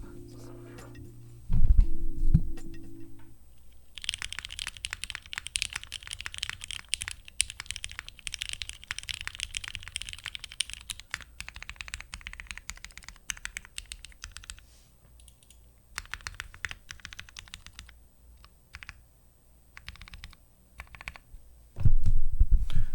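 Rapid, steady clacking of a Thera75 mechanical keyboard being typed on for a long stretch, with brief pauses and a couple of louder thumps at the start and end.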